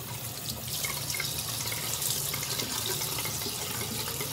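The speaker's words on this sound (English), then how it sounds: "now I'm about to wash my face with this and some water" Water running from a tap into a sink for face washing, a soft, steady stream that sounds close and quiet and continues evenly, with no talking.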